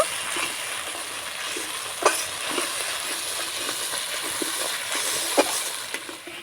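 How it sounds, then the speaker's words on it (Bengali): Masala seasoned with salt and coriander powder is stir-fried in a pan for a potato and paneer dish, giving a steady soft sizzle with occasional scrape or clack accents from stirring, moderately quiet and without talk. "এবার আমি ভালো করে মশলাটা সুন্দর করে কষিয়ে নেব"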